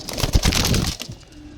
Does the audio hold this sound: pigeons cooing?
yes